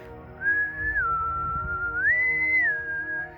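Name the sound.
person imitating a whistle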